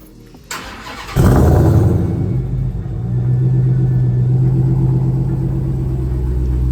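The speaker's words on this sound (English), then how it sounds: "We're gonna pull that thing out, get a warm start" A Dodge Hellcat starts with a sharp crank and a loud bark, then settles into a deep, steady idle rumble close by that carries on to the end.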